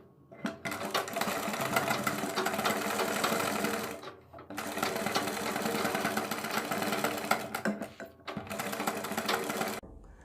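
A sewing machine stitches a seam on kurti fabric, running in long steady whirring bursts with short pauses between them, close and clear.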